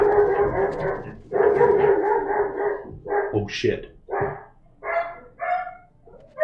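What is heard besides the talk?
dog barking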